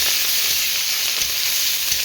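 Whole garlic cloves fry in hot oil, giving a steady, dense, close sizzle that holds at an even loudness throughout with no breaks.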